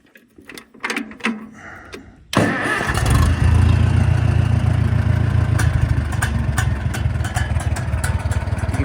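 A 1950 Farmall M tractor engine cranks briefly after some handling noises, then catches and settles into a loud, steady, close idle that keeps running throughout.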